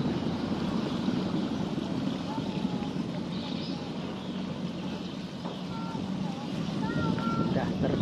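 Boat on the Mentaya River, a steady broad engine and water rumble heard from on board, continuous and fairly loud with wind, faint beeps and occasional voices mixed in.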